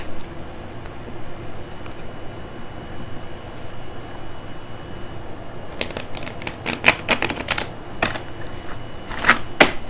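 A deck of tarot cards is shuffled after several quiet seconds, giving bursts of rapid, crisp flicking and riffling clicks close to the microphone.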